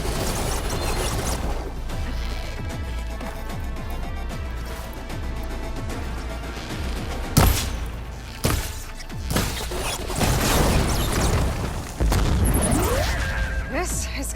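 A heavy weapon in Horizon Forbidden West fires and explodes in several sharp booming bursts with crashes and whooshes, set against continuous combat noise and background music.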